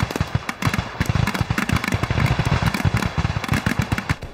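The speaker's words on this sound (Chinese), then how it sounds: "听这声音，好像是放鞭炮吧？" Strings of firecrackers go off in rapid, irregular bursts, dozens of sharp loud cracks and pops crowding together over several seconds, close and dense like a long chain being set off.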